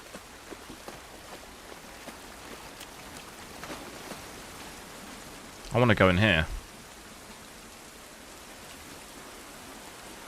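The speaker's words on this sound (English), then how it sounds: "This rain ain't gonna do us any good." Steady rain falls in the video game The Last of Us Part I, a soft even hiss across the scene, with someone speaking briefly over it and a short louder game sound midway.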